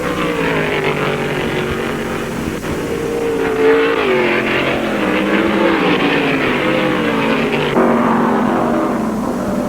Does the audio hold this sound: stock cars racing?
yes